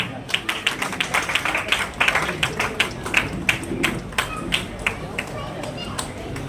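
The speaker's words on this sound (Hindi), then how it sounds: "जोरदार तालियां बजाएं" At a news channel's foundation-day honours ceremony, the crowd claps in a fairly regular, rhythmic beat of distinct sharp claps over a murmuring room, moderately loud throughout.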